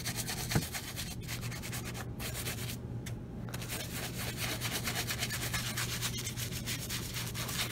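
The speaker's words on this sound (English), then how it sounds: "You can scrub really hard. Not as hard as the brush will allow." A brush scrubs saddle soap into vintage Allen Edmonds leather brogues in a fast, steady, rasping back-and-forth rhythm, quiet and close, with a couple of brief pauses.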